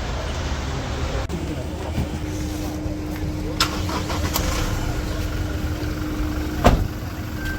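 A Toyota Hilux four-wheel-drive off-road vehicle drives on rough terrain, its engine a steady mid-level rumble with a faint whine, occasional knocks and rattles from the body, and a sharp jolt near the end.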